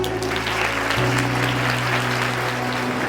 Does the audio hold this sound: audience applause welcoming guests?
yes